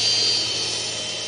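Power drill bores a hole into a Nike Air shoe, a steady high-pitched whine with a buzzing motor tone that holds continuously and fairly loud, no talk over it.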